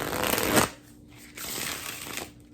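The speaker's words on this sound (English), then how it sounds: "you're gonna get the very first sounds of a shuffle" A brand new, stiff tarot card deck being shuffled by hand, two quick riffling bursts of crisp card flutter separated by a short pause, close and clear.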